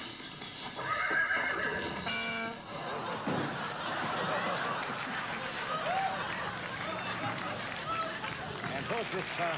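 A horse neighs loudly and close, with a long whinny early on followed by snorts and hoof clip-clop, as people talk and react in the background.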